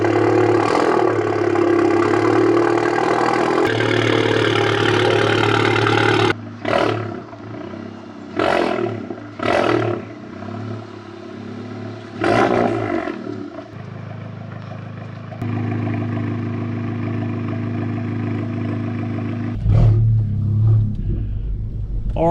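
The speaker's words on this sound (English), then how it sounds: "A juicy cold start for the boys." Volkswagen GTI engine cold-starting and settling into a steady idle, a loud deep rumble with several sharp revs flaring in the middle before the idle continues alone.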